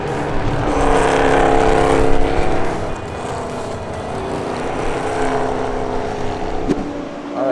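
European NASCAR series race cars roar past along the track, a loud, sustained engine drone that swells and fades as they go by, close to the listener, with no speech.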